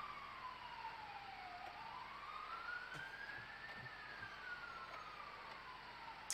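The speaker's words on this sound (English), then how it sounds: "Keep hearing fucking sirens." A video game emergency vehicle siren wails, rising and falling slowly over a steady background hum, moderately faint as if at some distance.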